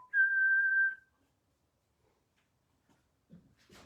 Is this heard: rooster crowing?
no